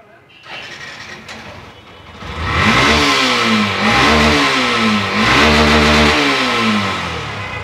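A Honda Hornet Special Edition motorcycle engine starts and revs hard several times in a bike showroom, rising and falling in pitch, loud and close.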